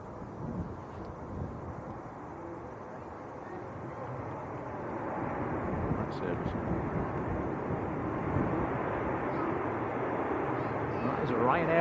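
A Ryanair airliner arrives from Alicante at Manchester Airport on a windy day, a low, distant engine rumble that slowly grows louder, mixed with wind buffeting the microphone.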